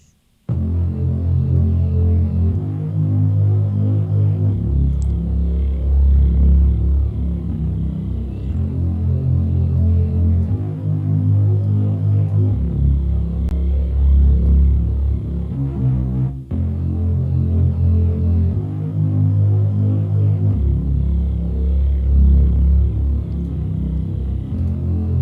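A Reece bass synth with distortion, chorus and reverb plays a thick, loud, throbbing low drone in repeating sustained notes, steady and continuous throughout.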